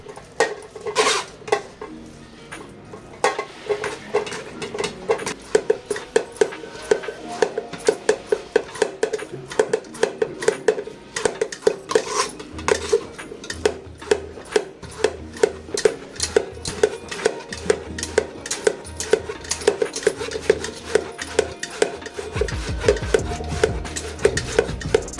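Warm puran, a cooked sweet lentil mixture, scraped and mashed through a sieve in a home kitchen, giving steady rhythmic metallic rasping and scraping strokes, close and fairly loud, with no talk.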